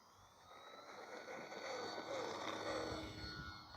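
Electric motor of an Arrows T-28 1100mm RC model airplane spooling up for takeoff, a steady whine that swells in loudness over a few seconds, heard close and alone without talk.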